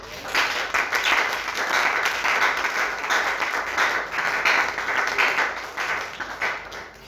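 A church congregation applauding loudly at a Sunday worship service, dense sustained clapping that surges and dips over several seconds, with scattered voices mixed in.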